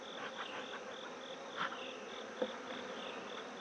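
Honey bees buzz steadily at a hive box in an apiary, a faint continuous drone with a few louder passes of individual bees close by.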